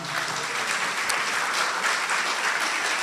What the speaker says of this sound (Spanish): ¿Cuántos dicen amén y aplauden la sabiduría de Dios?